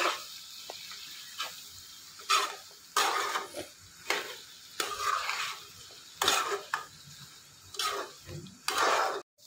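A spoon stirs turmeric and salt through a brinjal curry in a pan, making about eight rhythmic scraping strokes with light sizzling between them, close and alone.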